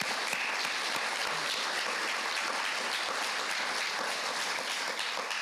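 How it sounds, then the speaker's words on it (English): A hall audience at the 44th annual Nashville preservation awards applauds steadily, a broad wash of many hands clapping at even loudness throughout, with no voices over it. "let's give another round of applause to Tim Walker and to the Metro Historical Commission staff"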